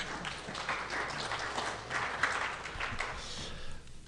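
Scattered audience applause in a presentation hall, a modest, fairly quiet wash of clapping lasting a few seconds before tapering off.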